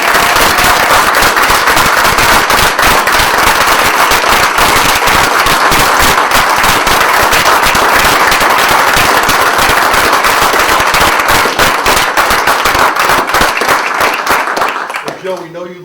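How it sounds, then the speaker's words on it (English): A loud, dense burst of applause at a borough council meeting, rapid crackling claps packed tightly for about fifteen seconds before tapering off at the end. "I'd want everybody to give you a round of"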